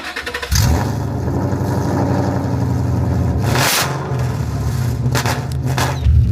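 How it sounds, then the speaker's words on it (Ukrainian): A 420-horsepower Ford Mustang GT with a loud exhaust fires up and idles with a deep, throbbing burble, then blips the throttle in sharp revs, close and loud throughout. "Чому чоловіки люблять гучний вихлоп?"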